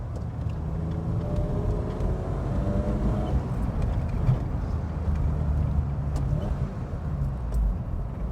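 A BMW E28 Hartge H5 SP is driven hard along a twisty road. Its engine drones loud and steady throughout, with the pitch sweeping up and down as it revs through the bends and shifts gears.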